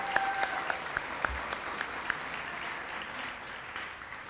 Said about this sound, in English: Round of applause for Carrington.